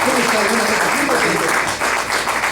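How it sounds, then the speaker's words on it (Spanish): Audience at a live outdoor concert of a regional Mexican duo in Santa Fe de la Laguna clapping steadily, a dense, loud wash of applause lasting throughout, with a voice faintly mixed in. "vamos a dar un aplauso a mi queridísimo amigo José Dimas"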